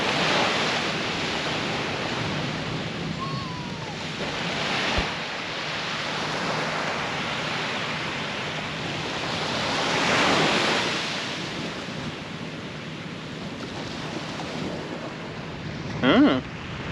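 Choppy sea waves wash continuously onto the beach at Lefroy Bay on the Ningaloo coast, with wind buffeting the microphone. The roar swells and eases, and a brief clatter of handling noise comes near the end.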